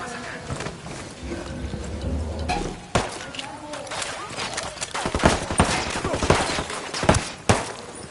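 Gunfire in the military shooter Recon, a rapid run of sharp cracks and bursts that grows denser in the second half, mixed with scattered clatter and battle noise.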